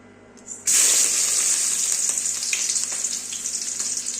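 Green chilies dropped into hot oil for aloo dum, a sudden loud burst of sizzling that settles into a steady crackling fry, close up.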